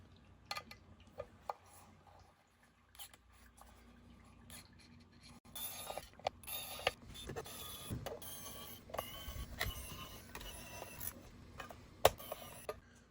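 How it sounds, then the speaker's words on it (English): Small screws being taken out around the outer rim of an electronic filter wheel on a telescope imaging setup, giving scattered light clicks and metallic ticks. They are faint at first and turn busier and denser in the second half. "my first task is to open up the electronic filter wheel, and we're going to do that by removing these screws around the outside here"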